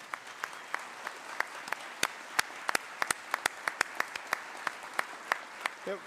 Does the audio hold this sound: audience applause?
yes